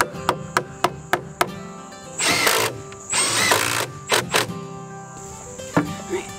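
A power drill drives 2.5-inch screws through pocket holes in the middle braces of a wooden firewood shed, giving two loud whirring bursts between sharp knocks and clacks of tools on lumber, close by, with no voices.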